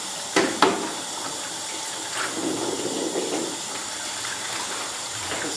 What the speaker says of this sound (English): The trays should be rinsed out about 3 times.